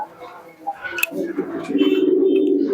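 Soft, low pigeon coos close by at a pigeon shop, a rolling murmured call that swells toward the end, with faint rustling around it.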